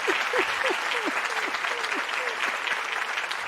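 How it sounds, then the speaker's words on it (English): Applause from an audience breaks out as a dense burst of clapping, loud and steady across the moment, with a few voices mixed in underneath. "I'm going to give us all an applause here."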